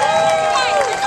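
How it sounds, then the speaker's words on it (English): Audience applause and cheering for youth Greek dancers taking a bow at a Greek Orthodox church festival, a dense, steady wash of clapping from a crowd that fills the whole brief moment. "Give them a big round of applause."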